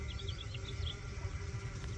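Honey bees hum steadily around a Layens hive, a continuous close buzz with a few higher insect whines drifting over it throughout.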